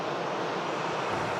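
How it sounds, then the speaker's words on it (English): An EasyJet A320neo arriving from Malaga at Manchester Airport roars past close and loud, a dense continuous engine rush filling the brief moment with no talk. "Here's the EasyJet Neo from Malaga."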